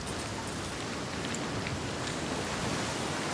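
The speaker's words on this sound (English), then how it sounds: "The rain never stops." Steady, heavy rain in the video game Senua's Saga: Hellblade 2, a dense continuous hiss of falling drops on surfaces, loud and unbroken throughout with no voices.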